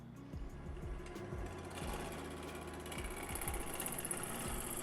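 Wood lathe spinning a hybrid bowl while its bottom is flattened, a steady mechanical hum and whine running throughout, with repeated low tool-contact thumps and scraping passes.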